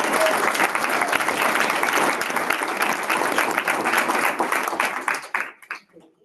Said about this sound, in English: So they just also deserve a round of applause.